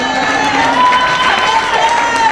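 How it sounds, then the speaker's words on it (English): Crowd at an African family induction ceremony in Los Angeles cheering and clapping, a dense, steady roar of voices and applause with shouts rising above it throughout. "give me a round of applause"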